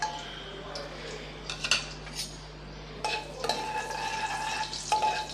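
Cinnamon, bay leaves and star anise fry softly in hot oil, a faint sizzle broken by a few metallic spoon clinks and stirring scrapes against the pan.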